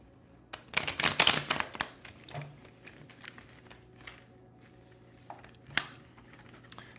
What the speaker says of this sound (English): I gotta do a better shuffle than that.